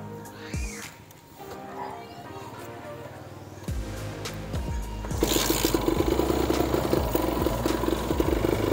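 A Kawasaki Ninja RR two-stroke motorcycle engine idles and then is revved, rising from a quieter, uneven putter into a louder, rapid crackling run, recorded up close.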